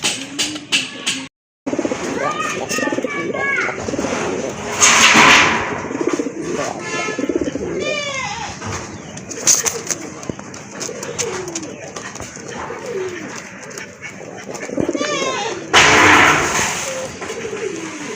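Pigeons, including local desi birds, coo repeatedly at a pigeon sale. The close, throaty rolling calls overlap one another, with occasional wing clatter and bursts of nearby noise, and voices talk intermittently in the background.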